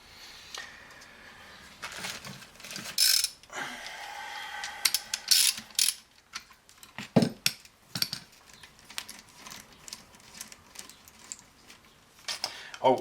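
Bearing hold-down bolts with washers being tightened in a Peugeot 207 BE4 gearbox with a ratchet, giving intermittent bursts of close ratcheting clicks mixed with metallic clunks and handling noise.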